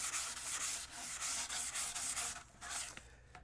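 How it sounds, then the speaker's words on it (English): Gentle hand sanding with sandpaper on a LOC Graduator model rocket component, close and soft, in rhythmic back-and-forth strokes that pause briefly before a few final rubs. "So when you're sanding, be sure to use gentle hands, nice and easy. Let the sandpaper do the work."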